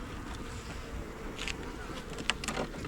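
Honeybees buzzing softly during a hive inspection, a steady, faint hum from the colony with a few brief louder passes close by.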